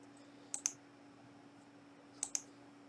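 Two pairs of sharp, close mouse clicks a second and a half apart, each a quick double tap from a computer mouse while right-clicking and choosing to make a new text document, with faint steady hum between.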